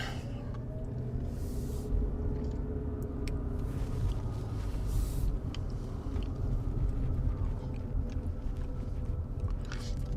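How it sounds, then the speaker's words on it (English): A car driving through rain, with a steady low road rumble and tyre hiss throughout and scattered faint ticks and splashes over the top, heard from inside the cabin with no talk. "I'm driving around in my car right now because it's raining."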